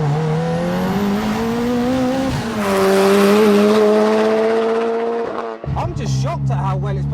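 A 500 bhp Lotus Elise accelerates hard, its engine note rising steadily in pitch and volume, peaking loudly before dropping away sharply as it shifts, with voices nearby.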